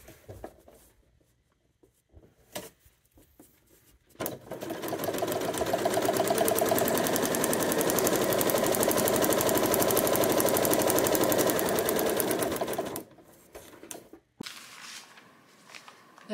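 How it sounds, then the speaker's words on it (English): A sewing machine stitches a quilt seam for a Tula Pink Sunshine Daydream Ring of Fire block, running in one steady, loud buzzing burst for about nine seconds, with a few light handling taps before and after. "Let's go sew it."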